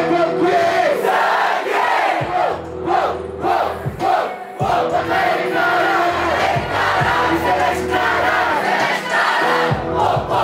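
An audience at a Brazilian rap battle shouts together in loud, rhythmic bursts, a dense crowd roaring close by in repeated chant-like waves with brief dips between them.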